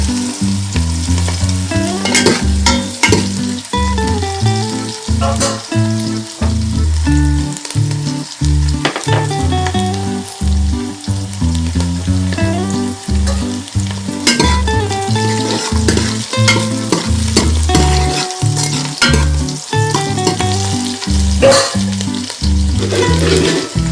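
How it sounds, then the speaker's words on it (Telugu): Onion and green chilli pieces fry in a pan for a Konaseema crab curry, a loud, continuous sizzle with rhythmic stirring strokes throughout. "ఉల్లిపాయ ముక్కలు బాగా వేగినవి"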